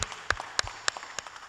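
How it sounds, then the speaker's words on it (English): Audience applause at a leadership forum: a short burst of scattered hand claps, fairly close and moderately loud, with no voices. "Let's give Chris Womack and Renee Glover a round of applause"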